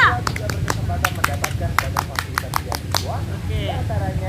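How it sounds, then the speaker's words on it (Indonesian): A scout group claps in a fast rhythmic pattern, sharp claps in quick bursts with voices chanting and talking underneath. "Tepuk pramuka."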